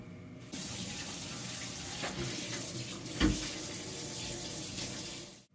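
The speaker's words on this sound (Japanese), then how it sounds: "洗剤を使わずにここのところねを水で洗うだけですね" Tap water runs steadily over a copper frying pan being rinsed without detergent at a sink, a continuous close splashing gush with a brief heavier splash midway before the flow cuts off.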